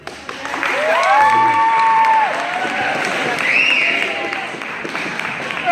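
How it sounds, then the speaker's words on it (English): A crowd of young guys cheers and claps as someone leaves a stage, a swelling wash of applause with whoops and shouts rising over it, fairly loud and continuous. "The young guys just cheering about getting me off the stage."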